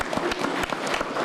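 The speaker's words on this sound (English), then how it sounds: "Let's give the legends and the fire department a big round of applause today." A short burst of crowd applause for hometown football legends and the local fire department, with individual sharp claps standing out in a loose, uneven rhythm.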